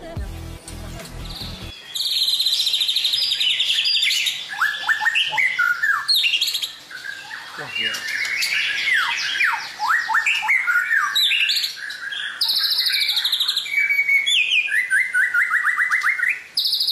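A white-rumped shama (murai batu) competition bird sings loud, continuous, varied whistles and rapid chirping phrases, close and clear, with only a brief low noise at the start before the song fills the rest.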